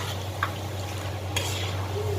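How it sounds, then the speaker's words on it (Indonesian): Peanuts frying in oil in a pan while being browned, with a soft quiet sizzle under a steady low hum and a couple of brief clinks from stirring. "Goreng kacangnya itu nanti kalau udah agak coklat"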